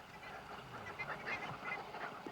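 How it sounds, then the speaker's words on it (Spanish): Wild geese calling along a riverbank in cold, mountainous southern beech forest, with a dense chorus of overlapping honks at moderate distance and a steady flock din that continues throughout. "En todas las riberas de esta sección del Báquer abundan los gansos silvestres"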